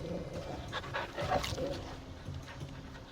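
A dog in the action RPG Final Fantasy XVI pants in quick, breathy bursts, with small whimpers and yips mixed in, close and moderately loud against faint game ambience.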